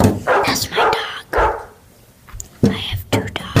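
A pet dog barks and yips indoors in a few short bursts, close and fairly loud, mixed with children's voices talking and playing.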